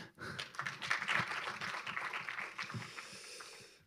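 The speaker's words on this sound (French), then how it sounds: "On peut applaudir Zaya." Audience applause at an advertisers' awards morning, a faint, distant wash of clapping that swells briefly and then fades out, with a voice faintly present.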